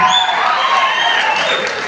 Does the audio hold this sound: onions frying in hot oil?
no